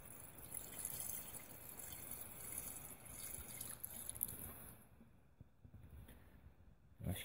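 Water gurgling and trickling through the suction hose of a motor pump used for flood irrigation, a continuous uneven wet flow that thins out toward the end, with no talk.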